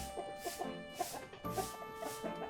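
Backyard chickens on a Philippine farm cluck close by in a quick, repeated series of short calls, with several birds overlapping throughout.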